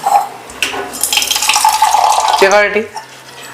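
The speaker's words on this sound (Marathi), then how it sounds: "आता ब्रश करून त्याच्यावर पाण्याचा शिंतोडा मारायचा" Water is sprinkled onto a hot, oil-brushed iron tava prepared for dosa, giving a brief burst of hissing sizzle that fades after a second or two, followed by a short voiced sound near the end.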